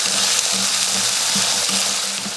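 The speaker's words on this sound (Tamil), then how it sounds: "இப்போ இதை வதக்கிடலாம்." Small shallots, whole garlic cloves and curry leaves sauté in a pan, giving a loud, steady frying hiss with faint low bubbling underneath.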